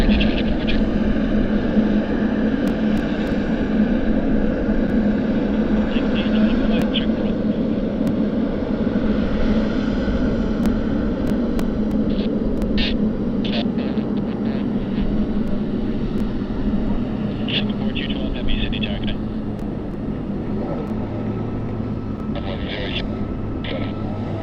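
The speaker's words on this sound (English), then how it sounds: "Singapore Airlines taxiing out at the moment, and flight 212 to Singapore." A Singapore Airlines jet taxis at Sydney Airport, its engines a steady, distant low roar throughout, with occasional faint clicks and radio-like chatter mixed in.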